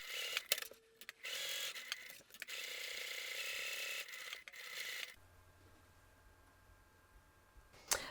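A sewing machine stitches a postman envelope clutch bag in a close, steady mechanical run of ratcheting clicks for about five seconds. Brief stops break the run, and it then drops to a quiet hum.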